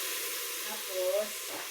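Beef and mushrooms fry in soy sauce in a pan, giving a steady soft sizzle and hiss while being stirred, with faint scraping under the constant frying noise.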